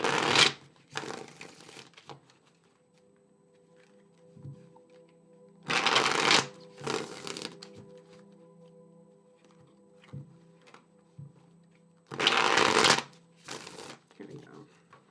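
A deck of tarot cards is shuffled in several short, crisp riffling bursts separated by quiet pauses, close by, with a soft voice speaking between some of the shuffles.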